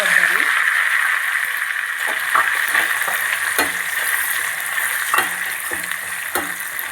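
Fresh grated coconut frying in a pan gives a loud, continuous hiss of sizzling, with occasional soft stirring scrapes and taps close by throughout.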